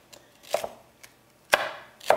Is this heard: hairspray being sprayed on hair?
no